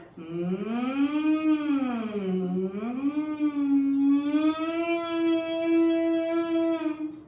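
A single voice imitates a siren, sliding its pitch up and down in a smooth wail before holding a high sustained tone.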